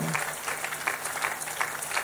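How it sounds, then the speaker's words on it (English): A crowd claps steadily and rhythmically in unison, a dense continuous patter at moderate volume with no one speaking. "Just keep clapping for Jesus as they come"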